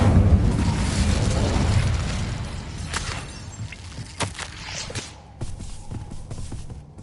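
An Incendio fire spell cast in Hogwarts Legacy, with a loud roaring whoosh of flame at the start that fades over a couple of seconds, followed by scattered sharp impacts and crackles.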